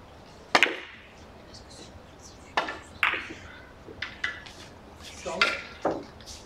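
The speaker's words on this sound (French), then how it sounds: "c'est le bon coup de queue" Sharp cue-tip strikes and ball-on-ball clicks from a three-cushion billiards game, about six distinct knocks spread irregularly across the clip, each a crisp close click with a short ring, no talking.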